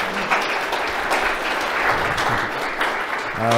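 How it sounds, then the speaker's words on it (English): Conference attendees applaud after a talk on storing payment cards in a public cloud. The clapping is even and sustained from start to finish, and a voice briefly begins speaking near the end. "Applause to Dmitry."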